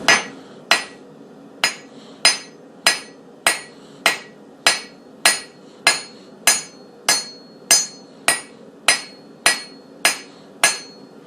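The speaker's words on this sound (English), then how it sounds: "take the flat side of the hammer" Steady hammer blows on metal, about seventeen sharp, ringing strikes at an even pace of roughly one and a half per second, close and loud.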